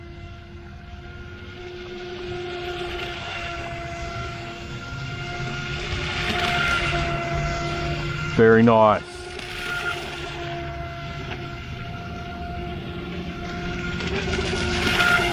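TY XIN TX768 brushless 3S turbojet RC racing speed boat running flat out at full throttle, a steady high motor whine holding constant throughout, with a short spoken remark cutting in near the middle.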